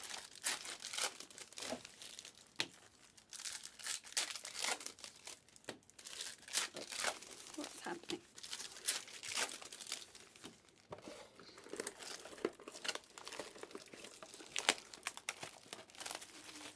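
2022-23 Panini Revolution Hobby NBA trading card packs are ripped open, with continuous crinkling foil and sharp tearing bursts, quiet and close, in an irregular busy rhythm without talk.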